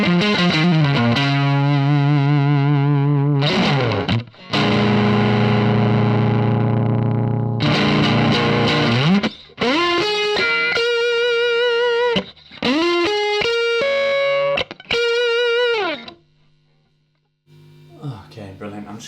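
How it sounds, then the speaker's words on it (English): Electric guitar played through a TC Electronic Tube Pilot tube-driven overdrive pedal, giving a fuzzy, gritty amp-in-a-box tone: loud sustained chords and ringing single-note phrases in bursts, with a short pause before a final quieter strum. "this tube driven overdrive pedal, like almost like an amp in the box kind of thing"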